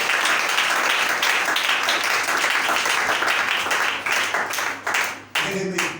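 A church congregation applauds and acclaims the Lord, steady dense clapping mixed with crowd voices filling the space, loud and sustained before thinning briefly near the end.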